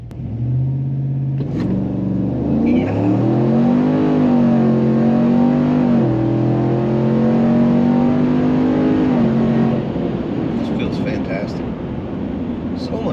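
A 2020 Chevrolet RST pickup with a custom-tuned transmission and camshaft pulls hard at wide open throttle, its engine note climbing loudly through each gear before dropping and rising again at the shifts, with talk briefly over the roar.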